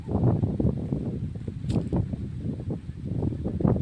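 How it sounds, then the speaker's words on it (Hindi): Wind blows outdoors and stirs the leaves of trees, with a soft, breathy rustle and gusty buffeting on the microphone, close and continuous at moderate loudness, with no voices. "देखिए कितनी अच्छी हवा चल रही है"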